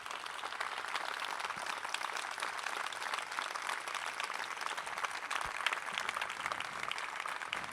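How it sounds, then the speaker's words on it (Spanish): Steady applause from an audience at an Argentine political speech, continuous dense clapping sustained throughout without a break. "un aplauso para la recuperación"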